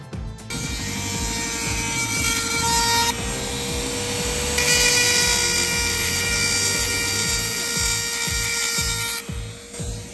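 Power tool grinding down weld buildup on a transmission part, a steady loud whine held for about ten seconds with a brief pitch shift midway, no talk.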